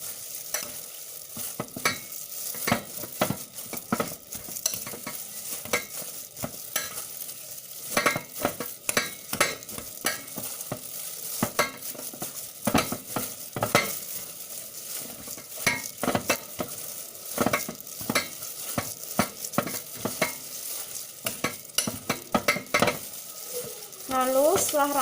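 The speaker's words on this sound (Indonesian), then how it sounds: "Lalu aduk menggunakan sendok." A spoon stirs tofu with vegetables such as carrot and celery leaves in a frying pan, giving rapid scraping and clinking strokes over a steady sizzle that runs close and fairly loud for the whole stretch, with no talking.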